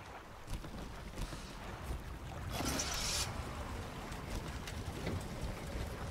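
A boat engine in the video game Resident Evil Village runs as a steady, washy rumble with a windy, watery hiss that swells briefly midway and then continues evenly.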